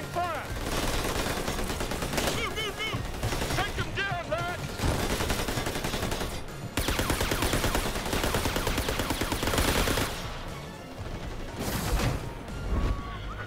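Rapid gunfire and bursts of shooting from the Tales from the Borderlands video game, loud and dense throughout, mixed with game music, with voices speaking over the shots.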